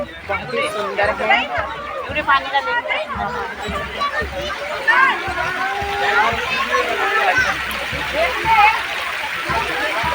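Fountains splash and run steadily at the National War Memorial behind India Gate, a continuous wash of falling water heard close by beneath a crowd's babble and a nearby voice talking throughout.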